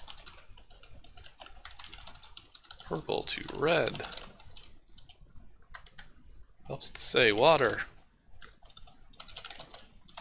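Keys clatter steadily on a computer keyboard in rapid light clicks that run throughout, while someone talks over them in two short bursts.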